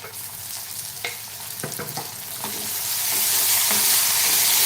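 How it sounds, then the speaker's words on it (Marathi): Finely chopped tomato hits a hot pan for a Marathi-style black chickpea curry, with a few stirring clatters before the sizzle swells into a loud, steady frying hiss, close and with no talking. "आता एक बारीक चिरलेला टोमॅटो घालूया"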